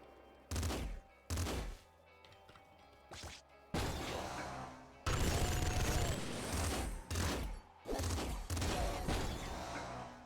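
A hyper rifle in a video game fires close and loud in bursts of automatic fire. Two short bursts come first, followed by longer sustained volleys separated by brief pauses.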